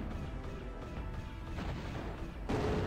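A shot fired during a Zero-K real-time strategy battle: a steady wash of distant artillery and crashing impacts, then a sudden louder blast near the end, with no talk.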